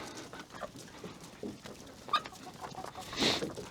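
Backyard chickens clucking at a cold winter coop, soft scattered calls mixed with other barnyard noise and a dog-like bark.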